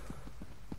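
Horse hooves clip-clop in The Elder Scrolls Online, three soft, evenly spaced thuds from a single mount, close and fairly quiet, with no voices over them.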